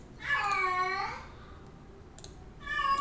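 A house cat meows loudly and close, one long drawn-out call, then a pause and a second meow starting near the end, with faint clicks in between.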